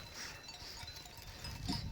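Sheep bleat in a green field, a soft, fairly distant cluster of calls over steady outdoor noise, with no talk.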